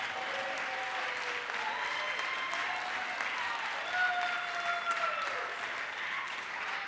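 Sustained applause fills a legislative chamber during a floor session, steady clapping from many hands with faint tonal voices and murmurs threading through, holding for about seven seconds.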